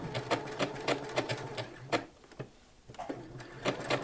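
A home sewing machine stitches a quilt block, with rapid mechanical needle clatter in short bursts, a brief slowdown and pause midway, then stitching resumes, close and steady, with no talk.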